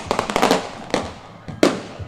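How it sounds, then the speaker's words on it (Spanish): Firecrackers set off by celebrating football fans crackle in a rapid burst of sharp pops, then a single bang and a last loud crack, with crowd noise and talk underneath. "ahí están los petardos también, la gente de Ubupona que lo celebra"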